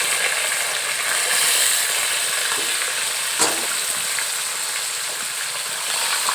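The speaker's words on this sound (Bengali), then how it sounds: "একটু লাল লাল করে ভেজে নিতে হবে" Fish heads fry in hot oil in a pan, giving a loud, continuous close-up sizzle with one sharp clatter of a utensil midway.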